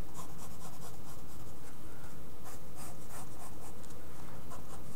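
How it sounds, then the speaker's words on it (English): A pencil sketches a box shape on paper for a manga-style head drawing, giving steady close scratchy strokes with a few brisker rubbing passes and no talking. "So let's go ahead and draw our box."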